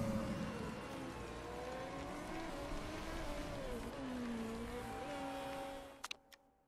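Racing car engines in the game Motorsport Manager drone steadily and loudly, pitch rising and falling as the cars speed around the circuit, with a few sharp clicks at the very end and no speech.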